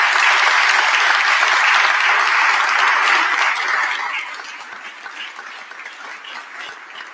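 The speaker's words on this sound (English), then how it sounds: "Let's give them a round of applause." Audience applause for volunteers and contractors at a Philadelphia gathering, a dense wash of many hands clapping, loud and steady for about four seconds before thinning to a quieter, scattered patter.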